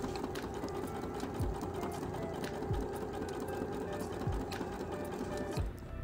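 A sewing machine steadily stitching linen dress bodice pieces cut from an upcycled bedsheet, a continuous close mechanical whir with a few brief thumps, running alone without pauses.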